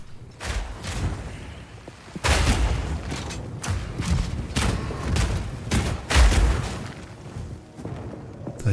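Lightning-charged explosions in the action RPG Path of Exile 2 go off in rapid, repeated bursts, loud booming blasts and crackling impacts piling on top of one another with almost no gaps between them.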